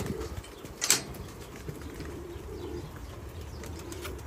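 Flying pigeons in a loft give a sudden burst of wing flapping near the start, then soft cooing runs under a steady low background hum.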